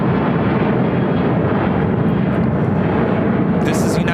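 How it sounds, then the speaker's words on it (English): A United Airlines Airbus A320 takes off at Chicago O'Hare, a loud, sustained low jet roar throughout, with a brief crackle near the end. "This is United Airlines 786 Tango taking off on the A320."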